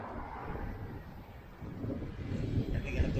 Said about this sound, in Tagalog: There's already strong wind.